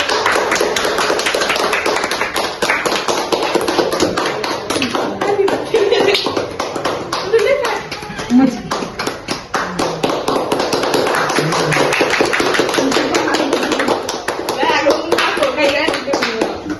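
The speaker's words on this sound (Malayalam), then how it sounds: "കയ്യടിക്ക്" A group of campers at an NSS camp clapping in a fast, dense, continuous rhythm for the whole stretch, loud and close, with chatter and voices mixed in underneath.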